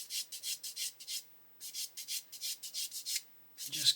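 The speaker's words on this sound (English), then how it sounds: "sand that away with some sandpaper or a sanding stick or whatever you've got" Sandpaper on a soft sponge rubs away the mould seam on a plastic model tyre for a Lancaster bomber kit, making bursts of close, dry scratchy strokes in a steady back-and-forth rhythm with short pauses.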